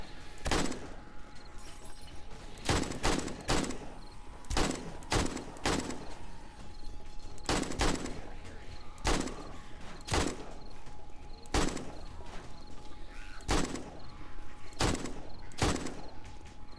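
An AK rifle in 7 Days to Die fires in short, sharp single shots and quick pairs, spaced irregularly over quiet game ambience.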